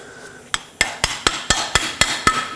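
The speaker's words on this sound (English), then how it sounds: "I'm just going to use my hammer" A hammer taps a cup onto a ball joint on a 2007-2010 Chrysler Sebring, eight sharp metallic strikes in a steady rhythm, close and loud with ringing decays, no talking.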